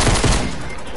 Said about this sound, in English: I hear some shots.